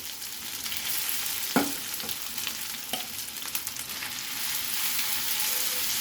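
Potatoes and urad dal roast in a pan with a continuous close sizzle and crackle, punctuated by a few sharper scrapes and knocks of a stirring spoon.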